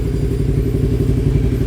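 Motorcycle fitted with a DX AR1R Special Edition exhaust idling close by, a loud, steady low burble with rhythmic pulsing and slight mechanical clatter, alone without speech.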